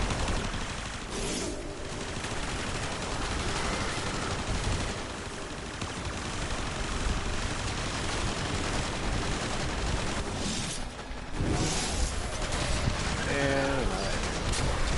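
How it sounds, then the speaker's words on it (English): Dense explosions and rapid gunfire from the video game Warframe fill the mix in a constant loud barrage, with sharper blasts and bursts around the middle and near the end, while a voice talks over the action. "It's just too many explosions at once."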